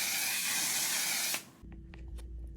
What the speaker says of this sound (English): This is my go-to setting spray of all time